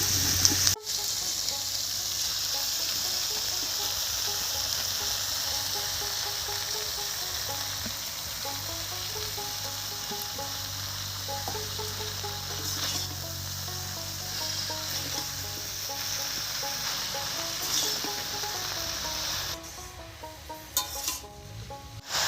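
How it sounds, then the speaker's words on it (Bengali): Chopped spinach hisses and sizzles steadily in a hot pan with vegetables, a constant moderate frying sound with a couple of clanks near the end. "সবজিটা একটু ভাজা ভাজা হয়ে একটু সেদ্ধ সেদ্ধ হয়ে গেছে এবার এর মধ্যে দেব কেটে রাখা পালং শাক"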